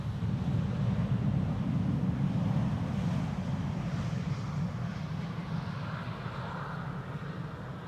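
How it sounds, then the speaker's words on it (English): A steady, loud roar of an airliner descending to land on Schiphol's Polderbaan runway 18R, a KLM flight arriving from Stockholm, with broad low rumble and wind buffeting that slowly eases toward the end. "That's the third airplane, almost now second to land."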